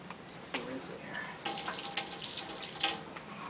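Water runs and splashes in short bursts during rinsing in a wave tank experiment. The sound is close and fairly faint, and voices can be heard around it.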